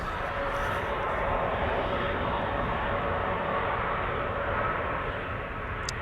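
A Malta Air airliner departing Amsterdam Schiphol gives a steady, broad engine roar at moderate distance, constant throughout without talk.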